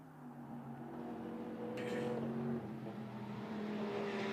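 A Simpson Motorsport BMW race car running along a straight at Spa-Francorchamps during a 12-hour endurance race, a faint distant engine drone shifting pitch as it passes, with no talk.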